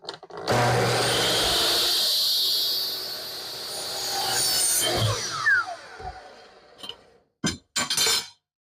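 Aluminum being cut with a standard woodworking saw, a loud harsh grinding rasp for about five seconds that tapers off, followed by a few short bursts of cutting, with no talk.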